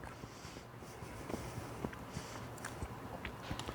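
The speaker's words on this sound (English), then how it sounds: "I can't wait to bite into these" Quiet, close biting and crunchy chewing of angel cookies made with pecan, coconut and cornflakes, irregular soft crunches over a low background hum, with no talk.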